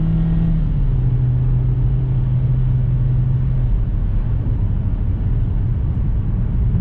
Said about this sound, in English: wind up this engine a bit